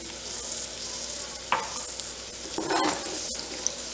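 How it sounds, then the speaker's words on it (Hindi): Ridge gourd, onion, ginger, green chilli, clove and cinnamon sautéing in a pan over high heat: a soft continuous sizzle with a few scraping stirs and light clinks of a utensil, fairly quiet. "हमें इसको सॉटे कर लेना है जब तक ये लाइट ब्राउन ना हो जाए"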